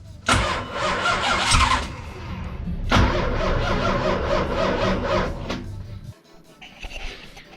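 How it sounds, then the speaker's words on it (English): A MOPAR 408 stroker V8 in a 1970 Dodge Challenger cranks and catches, then stumbles, restarts and runs roughly at a loud, close idle for several seconds before cutting out abruptly, leaving faint background noise. "So after a while I was able to get it started right now."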